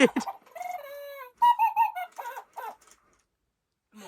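A motion-activated toy owl gives a short electronic cuckoo call, a few clear tonal notes heard close and alone with brief pauses between.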